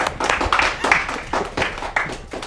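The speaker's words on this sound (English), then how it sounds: "More applause." A comedy show audience claps in a few uneven bursts of handclaps, fairly close and moderately loud, thinning out between bursts.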